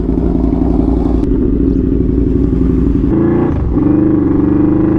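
A Yamaha V-Max motorcycle engine rumbling loudly at close range, a deep, lumpy idle that climbs into a rev near the end, heard alone without talk.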